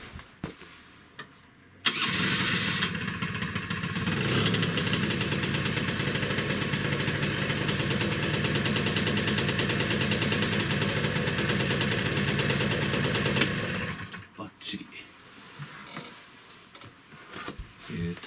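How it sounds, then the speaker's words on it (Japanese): A restored Suzuki Carna motorcycle engine fires up on the first try and idles steadily at close range for about twelve seconds, then cuts off, leaving faint clicks and handling noise. "さっきよりもアイドリングで安定してるし、一発でかかったし"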